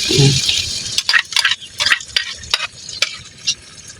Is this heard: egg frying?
yes